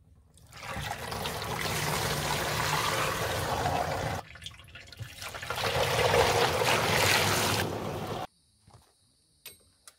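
A backpack sprayer pump filled with water for fumigating gives two long stretches of rushing, gushing spray separated by a brief pause, followed by quieter clicks and handling sounds outdoors.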